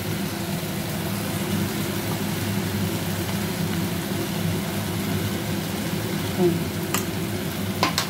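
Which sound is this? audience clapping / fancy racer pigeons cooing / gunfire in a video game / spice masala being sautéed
spice masala being sautéed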